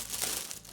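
Tape is peeled off the paper wrapping of a flower bouquet, a short, close crinkling and tearing rustle with no voices.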